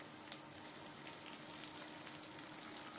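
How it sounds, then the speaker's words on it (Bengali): Onion, garlic and ginger fry lightly in a pan for chilli chicken, giving a soft, steady sizzle with faint crackles throughout, quiet and without talk. "এবার পেঁয়াজ রসুন আর আদাটা একটু ভাজা করে নেব"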